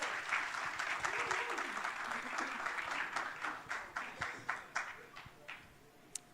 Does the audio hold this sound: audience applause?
yes